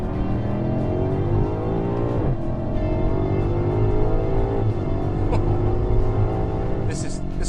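A 2019 BMW M5 accelerates hard, its engine note climbing steadily and dropping briefly at quick automatic gear shifts, loud and close from inside the cabin, with a voice speaking over it.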